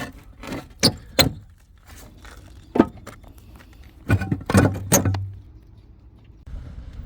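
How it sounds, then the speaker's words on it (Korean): Old roof tiles are torn off a farmhouse roof during demolition in the snow, with scattered sharp clacks and scraping clatters, some close and loud, between quieter pauses. "지금 기와를 철거하는 모습인데요."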